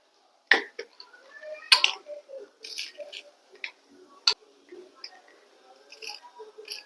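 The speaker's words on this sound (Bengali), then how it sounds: "একেবারে গরম তেলের মধ্যে দিয়ে দিছি পাঁচ ফোড়ন এই এই যে চটপট চটপট করে আওয়াজ হচ্ছে" Panch phoron spice seeds dropped into hot oil, crackling and popping in sharp, irregular snaps, some loud and close, scattered across several seconds with quieter sputtering between.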